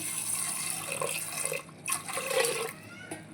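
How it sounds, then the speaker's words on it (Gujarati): Hot water poured into a cooking pot of soaked chickpeas for chole, a steady splashing rush close by for about a second and a half, then broken, uneven trickles and splashes, with no voices. "હવે ગરમ પાણી રેડી દઈશું"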